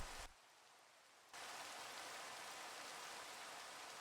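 Steady rain from the Minecraft video game fills the scene as a constant, even hiss. It is briefly muffled near the start and then continues at full level.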